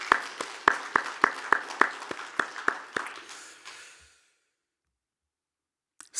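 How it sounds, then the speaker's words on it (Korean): Sparse, slow clapping from a small Sunday worship congregation, a dozen or so distinct claps in an uneven rhythm that thin out and stop, leaving near silence with a faint tap at the end. "그분들에게는 제가 위로의 박수를 그리고 격려의 박수를 드리기를 원합니다."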